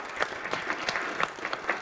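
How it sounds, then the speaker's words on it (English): An audience claps in a room, a dense, steady burst of applause that stays close and fairly loud throughout, with no talking over it. "Let's give Shaz another round of applause."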